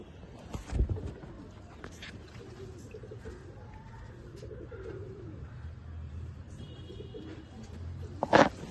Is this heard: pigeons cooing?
yes